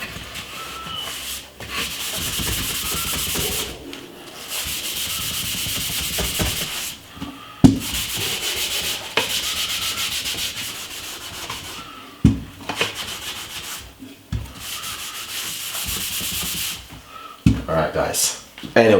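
A kettle is scrubbed with a paste of baking soda, lemon juice and toothpaste. Steady, close, gritty rubbing strokes continue throughout, pausing briefly now and then, with a voice talking over them.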